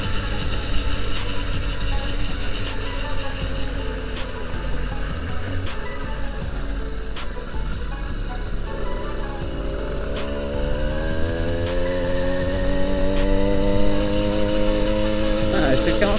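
Motorized bicycle used for deliveries, its exhaust cap sawn down inside: a steady close-up engine buzz running continuously, then revving upward in pitch toward the end.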